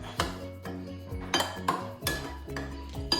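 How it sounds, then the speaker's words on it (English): A utensil stirring olive oil through food in a bowl for baked salmon, giving a quick run of about seven sharp clinks against the dish at an uneven rhythm. "I'm gonna mix it."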